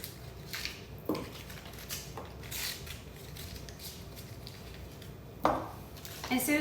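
Butter portions drop into metal pans with a few soft clunks and scraping knocks, spaced out over several seconds in a quiet kitchen, one sharper knock near the end.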